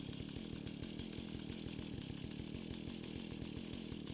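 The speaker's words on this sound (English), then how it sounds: "Chainsaw." Chainsaw in the Fallout video game runs at a steady idle, a continuous buzzing drone with a fast regular engine pulse, constant in level, with no voices.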